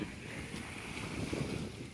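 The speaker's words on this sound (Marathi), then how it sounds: "खाली वारा वाहतोय" Steady wind rushes past close by on a rocky seashore at Capri, a low buffeting roar with a hint of surf beneath it and no voices.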